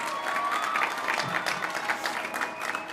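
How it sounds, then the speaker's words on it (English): Steady applause from a seated crowd at a 2021 Coronado High School graduation ceremony, dense clapping sustained throughout with no speech. "let's get a round of applause"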